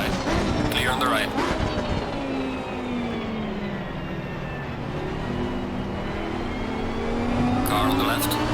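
Race cars in Assetto Corsa Competizione at Misano, engines roaring and sweeping past with rising and falling pitch, loud and close throughout, under a spotter's radio calls.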